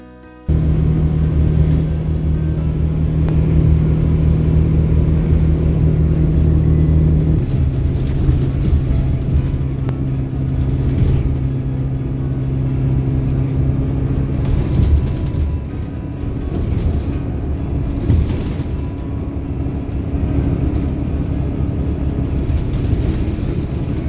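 Engine drone and road rumble fill the ride on a Scania K94UB bus with a Volkswagen CR228 body cruising an empty motorway in Sydney, a steady tonal hum shifting pitch with gear and speed, heard from inside without talk.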